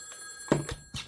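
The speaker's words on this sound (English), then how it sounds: "the phone you hear in the background is loud because that I call my bat phone. It's a 1960 red rotary table phone" A 1960 red rotary table phone rings loudly nearby, its mechanical bell sounding in two short bursts with a thunk at the start.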